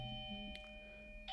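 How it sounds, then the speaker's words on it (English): A doorbell chimes once, fairly faint, with a second tone starting at the end, over a steady background hum in a home office. "That's the doorbell, but I'm not going to answer."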